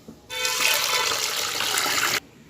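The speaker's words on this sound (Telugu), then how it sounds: "వాటర్ పోసి" Water pours steadily for about two seconds onto finger millet (ragi) set to soak in a bowl, a close, even splashing gush that stops abruptly.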